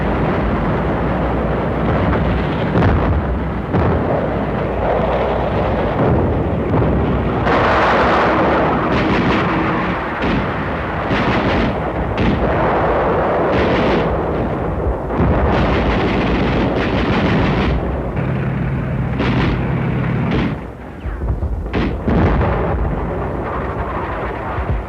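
Naval barrage and artillery bombardment ahead of the Saipan landing in WWII: loud, continuous rumbling explosions and booming blasts fill the whole span with no pause, dense and close.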